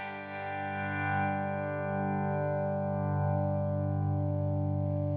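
Electric guitar run through an Arturia FX Collection 2 compressor set to hard limiting, a sustained, dense chord held steadily at an even level for several seconds, with no talking.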